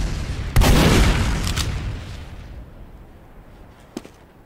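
A cannon fires on the Team Fortress 2 deathmatch map dm_mariokart: one loud, close boom with a long rumbling decay, then a few fainter shots, with a single sharp crack near the end.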